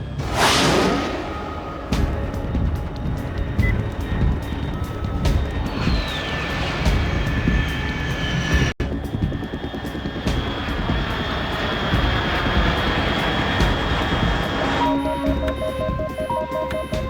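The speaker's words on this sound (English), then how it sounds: "Unidentified aircraft detected." Aircraft roaring overhead in the Metal Gear Solid 3 game, a sustained loud jet-like drone with a rising whoosh and engine whine holding steady before the sound changes near the end, no voices.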